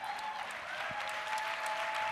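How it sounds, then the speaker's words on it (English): A crowd at an evening gathering for a prison-justice movement applauds warmly, a close, dense wash of clapping that holds steady throughout. "Let's give him a round of applause."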